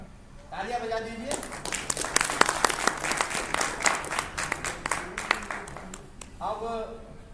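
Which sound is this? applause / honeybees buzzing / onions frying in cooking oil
applause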